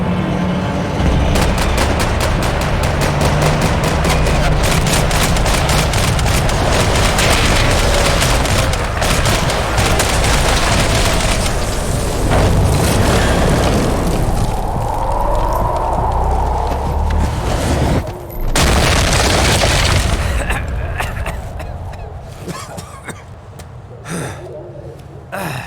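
Dense gunfire from the Max Payne 3 video game, rapid overlapping shots and impacts at a loud, sustained level, mixed with shouting voices and effort sounds, thinning out near the end.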